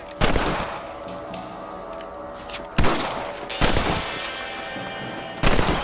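Gunfire from a rifle in the video game Red Dead Redemption, aimed at rabbits: three loud, sharp shots spaced a few seconds apart, each leaving a ringing tail, over a quiet game ambience.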